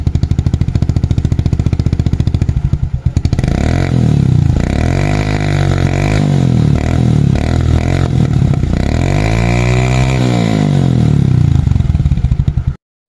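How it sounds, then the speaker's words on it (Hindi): Modified Honda CB Twister 110cc motorcycle idling and revving with a dB killer fitted in the exhaust, a loud, raspy, close-up note rising and falling through several throttle blips. "ये विद डीबी किलर है, साउंड सुन लीजिए।"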